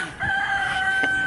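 Marble, a rooster kept on a farm with pygmy goats, crows loudly and close by in one long, sustained call with a brief break near the end, and no voices over it.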